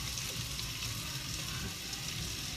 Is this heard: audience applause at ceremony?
no